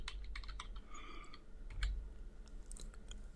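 Rapid keystrokes on a computer keyboard while a git command is typed, crisp clicking taps in quick irregular bursts, close and fairly quiet with no speech.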